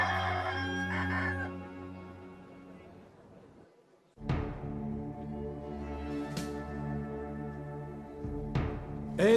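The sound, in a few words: rooster crowing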